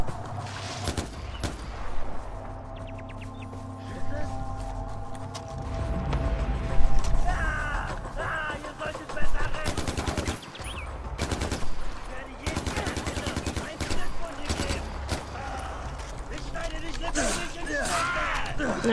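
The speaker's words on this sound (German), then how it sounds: "Von hinten kam noch ein Schuss?" Sustained gunfire in the video game Far Cry 4: dense bursts of automatic fire and single shots crackle across the whole stretch, loud and close, while a player talks over the action.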